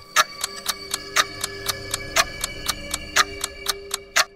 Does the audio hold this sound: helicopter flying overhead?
no